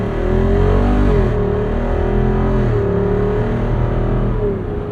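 A 2024 Jeep Wrangler 392 Final Edition Rubicon with its Hemi V8 pulls hard under acceleration, a loud, steady engine drone with rising and shifting harmonic tones close by, with no voices.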